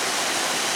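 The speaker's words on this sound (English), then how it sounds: "The river is flowing like crazy." A backyard river in Arizona runs high after heavy monsoon rain, a dense, continuous rushing roar of fast water, close and loud with no pauses.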